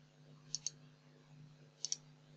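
Computer mouse clicking, two quick double clicks spaced about a second and a half apart, close and crisp over a quiet room hum.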